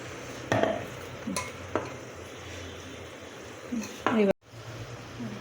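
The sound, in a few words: stirring rava dosa batter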